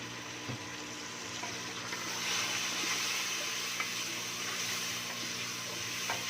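Water poured into a pan of frying powdered spice masala while cooking a pumpkin and chana dal curry, giving a steady hiss and rush that carries on throughout with no talking.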